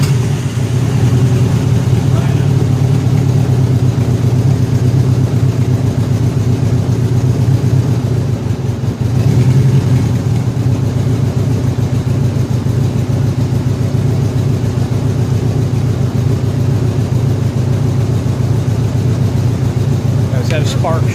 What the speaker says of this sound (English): So I've got the throttle on just a little bit, the throttle lock on just a little bit, because it would quite idle